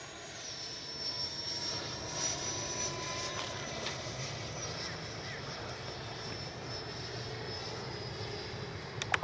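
A Freewing 90mm Zeus RC jet passes low and slow with a sustained whining electric ducted-fan roar that shifts in pitch, heard outdoors amid faint background voices.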